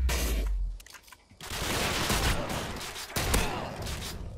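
Rapid gunfire in Call of Duty Modern Warfare 2, with dense crackling bursts of shots, a low thump at the start, then sustained loud volleys with a brief gap midway.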